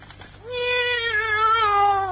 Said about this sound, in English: maybe my cat can hide out here for the day